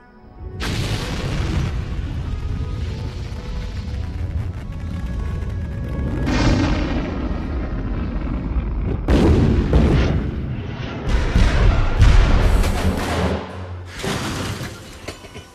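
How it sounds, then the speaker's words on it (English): Rocket liftoff in a film: a loud, sustained roaring rumble with crashing, booming surges that swell and break up across the whole stretch, no talking over it. "Liftoff!"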